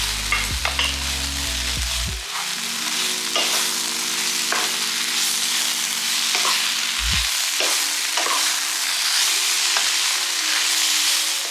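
Chicken fajita meat and vegetables sizzle in a frying pan, a continuous hissing fry broken by repeated scraping stirs, close up, with a low background hum that drops away partway through.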